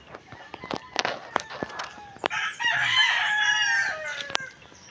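Chickens clucking nearby with a rooster's crow rising partway through, scattered scratching and footsteps around them.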